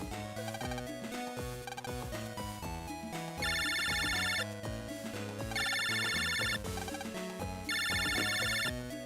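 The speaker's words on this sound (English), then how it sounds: "To be fair, his phone only rang like 3 times." A phone rings in the video game Mega Man Battle Network 5: three bright, buzzy ringing bursts about two seconds apart, layered over busy, quiet in-game music.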